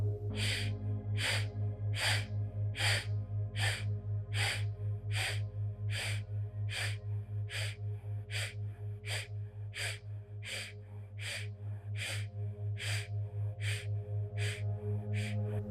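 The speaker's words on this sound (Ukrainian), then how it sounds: "Закриваємо ліву ніздрю. Видих через праву." Sharp nasal exhalations through the right nostril during a breathing exercise, about twenty short even-paced bursts, close and distinct over a steady low tone.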